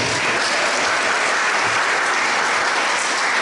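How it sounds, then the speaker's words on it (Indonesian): A hall full of delegates at a regional church assembly session applauds the newly chosen regional chairman, a loud, dense, unbroken wash of clapping that fills the whole moment without any speech. "Tepuk tangan untuk ketua wilayah baru"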